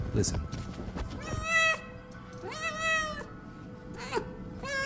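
A cat gives a few drawn-out, squeaky meows and chirps close to the mic, with someone talking around them.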